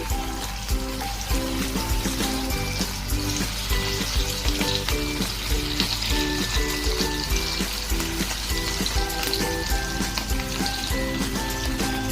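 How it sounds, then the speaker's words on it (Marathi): Steady, dense sizzling and crackling of corn batter fritters frying in hot oil in a wok, continuous throughout with no talking. "आता आपण तळून घेऊया कढई तेल तापत ठेवलं"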